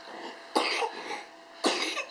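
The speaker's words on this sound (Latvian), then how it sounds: "Nu, klepo arī." A young child coughs twice, two short harsh bursts about a second apart, close to the microphone in a quiet room.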